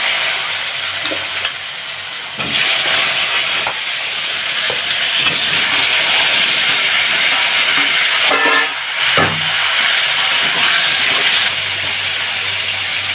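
Chunks of taro hit a hot pan while cooking with fish, setting off a loud, steady sizzle and frying hiss that runs throughout, broken by a couple of brief stirring clatters.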